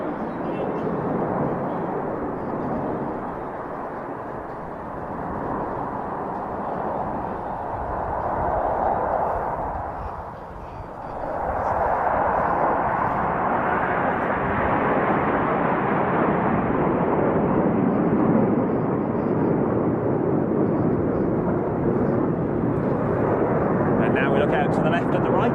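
Display aircraft roar past at the Royal International Air Tattoo air show, a loud sustained jet rumble that dips briefly midway, then swells again while a commentator talks over it.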